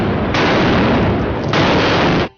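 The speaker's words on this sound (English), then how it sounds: "The starboard cannons belched fire and death." Cannon broadside from a sailing warship in a naval battle game: a dense, sustained roar of heavy gunfire in two overlapping loud bursts that cut off abruptly at the end.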